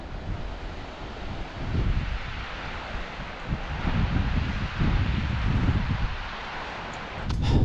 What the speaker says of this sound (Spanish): Miren lo que es ese río ahí.